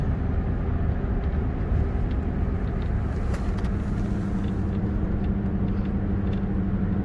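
Steady low engine and road rumble from inside a moving truck, a continuous broadband drone with faint rattles, alone with no talk.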